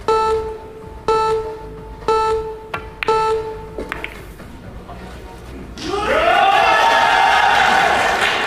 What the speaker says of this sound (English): There's the crowd. That's his cheering section.